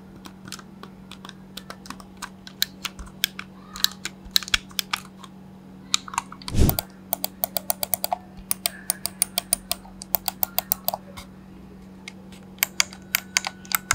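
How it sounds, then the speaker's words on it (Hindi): Quick, crisp clicks from Logitech M590 and Dell MS5320W mouse buttons come in irregular bursts over a steady low electrical hum, close and fairly quiet, with no talking. "here is a short sample कि आपको लॉजिटेक और डेल के माउस में किस टाइप का क्लिक ही साउंड मिलेगा"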